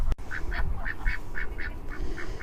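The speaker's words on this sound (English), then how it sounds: "the ducks are now drying off, preening themselves" Ducks by a new pond, drying off and preening, give a run of about nine evenly spaced nasal quacks close by, over a low background rumble.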